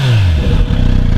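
A Kawasaki Z900RS motorcycle engine revs up close, a deep throaty burst that drops into a low, even burble.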